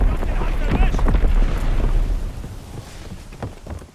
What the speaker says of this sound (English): Sending mortar rounds!